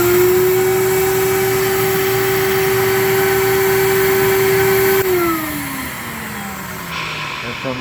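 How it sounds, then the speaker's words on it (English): A VPI vinyl record cleaning machine's vacuum running on an LP, a loud steady whine for about five seconds that then drops in pitch and winds down as the motor slows. "So we're going to turn on vacuum."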